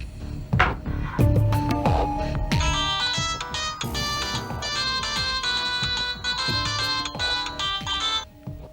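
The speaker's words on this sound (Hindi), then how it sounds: "तो रज्जू भैया का फोन लगा" A mobile phone rings with a loud, melodic electronic ringtone during a Hindi crime drama scene. The bright chiming tune repeats continuously for about nine seconds, with no talk over it.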